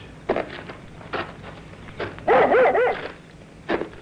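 A single dog barks excitedly in a string of short, loud yaps and whines, close by on a quiet rural road in an old radio drama. No voices are heard over it.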